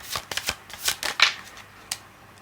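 A deck of tarot cards is shuffled in short, crisp riffling bursts, with about half a dozen quick flutters and slaps heard close and clear, and no voices.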